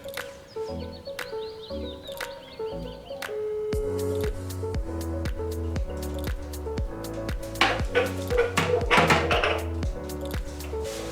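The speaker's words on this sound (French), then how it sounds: "Bah je vais le replonger dans l'eau gros." An iPhone XS Max is dunked and moved in water, giving close, wet squishing and dripping splashes with irregular taps over a low tonal hum, the sloshing growing busier toward the end.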